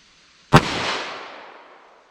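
A single sharp gunshot from a 10mm Glock pistol firing a 220 grain round cracks out close and loud, then trails off in a long fading echo.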